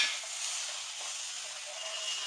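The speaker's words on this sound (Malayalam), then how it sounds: "ഒരു ബൗൾ വിനാഗിരി എടുത്ത് വെച്ചിട്ടുണ്ട് അതൊന്ന് ഒഴിച്ചു കൊടുക്കാം" Vinegar poured into a hot pan while making egg pickle, giving a steady bright sizzle and hiss that holds evenly throughout and then cuts off abruptly at the end, with no voices.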